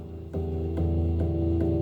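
Light taps on a guitar body land about four times at a steady pace over a constant low amplified hum.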